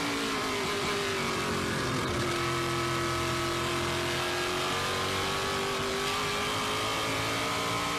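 A NASCAR Whelen Modified race car at Oswego Speedway roars on sustained throttle, its engine note held high and steady with little letup, loud and continuous with crowd and track noise behind.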